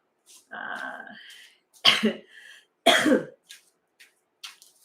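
A person coughs indoors near a dry heater. Two harsh, close coughs stand out, with softer throaty sounds and a brief vocal noise around them in a quiet room.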